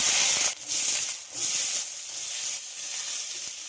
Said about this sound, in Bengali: এবার আলুগুলোকে খুব ভালোভাবে ভেজে নেব